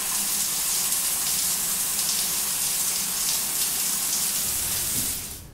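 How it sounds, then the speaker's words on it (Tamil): A salon shower spray running steadily at full force, a loud continuous hiss of gushing water that fades out at the end. "ஓகே டே சிண்டு, அந்த ஷவர் ஆன் பண்ணு."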